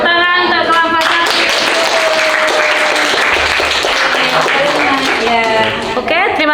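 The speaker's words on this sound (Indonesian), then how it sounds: "Tepuk tangan untuk kelompok satu." A classroom group gets applause from students, a broad steady wash of clapping running throughout, with voices and chatter mixed in.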